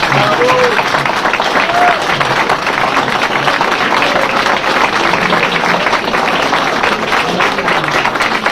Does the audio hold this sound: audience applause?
yes